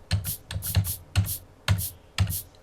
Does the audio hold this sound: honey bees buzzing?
no